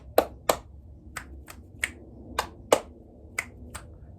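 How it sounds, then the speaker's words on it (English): A series of sharp, crisp snaps and claps, about ten in an irregular rhythm, close and distinct over a quiet background. "Check in with my nervous system with some clap snaps."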